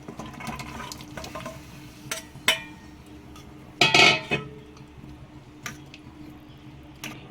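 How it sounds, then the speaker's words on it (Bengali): Fried potatoes going into a curry pot for Kashmiri dum aloo, giving a few soft clatters and wet plops against the pot, with one louder splashy thump near the middle over a quiet background. "এবার ভেজে রাখা আলুগুলো আমি দিয়ে দিলাম"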